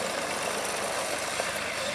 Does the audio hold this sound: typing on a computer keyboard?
no